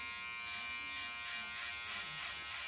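Electric hair clippers buzz steadily at close range during a haircut at a barbering course, a constant humming whine with slight shifts in pitch as the blades move through hair.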